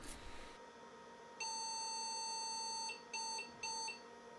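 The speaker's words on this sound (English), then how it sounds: "One long beep followed by 2 beeps indicates an issue with the video card" A computer POST beep code for a video card error plays: one long tone followed by two shorter beeps, clear and steady against a quiet hum.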